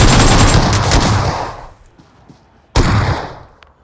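Gunfire in the mobile battle royale game BGMI, loud dense bursts of rapid shots that fade after about a second and a half, then a fresh burst erupts near the end.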